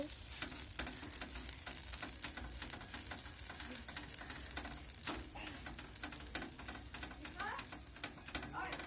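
Butter simmering in a pan while being cooked down into ghee, giving a steady close bubbling sizzle with frequent sharp crackles and pops throughout, and a faint voice in the background.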